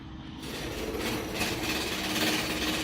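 Steady, continuous abrasive grinding of a car headlight being sanded, with a low mechanical rumble underneath, loud and close, with no pauses.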